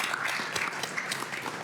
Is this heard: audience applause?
yes